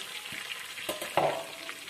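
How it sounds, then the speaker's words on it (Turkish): Chicken wings fry in a pan, giving a steady hiss and crackle of hot oil, with brief louder sizzles and stirring clatter as the pieces are turned. "Aynı şekilde tavuğumuzu kızartıp yönünü çevireceğim."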